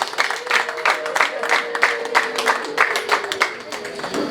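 Guests at a wedding clapping in unison, a quick steady run of sharp claps from a crowd that carries on for several seconds while a voice talks over it.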